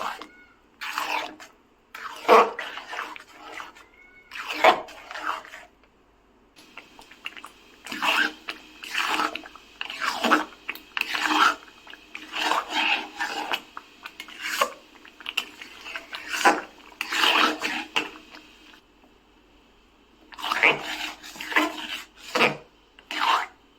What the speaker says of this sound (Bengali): চিনি দিয়ে দিয়েছি, এখন অনবরত নাড়তে হবে।